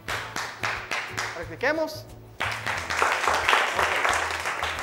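Seventh-grade students in a classroom clap together in short bursts of applause to answer their teacher, with the teacher's voice speaking over and between the claps.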